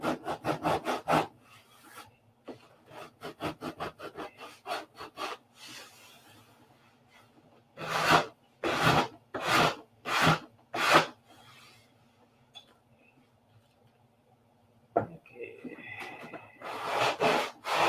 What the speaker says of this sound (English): the sanding.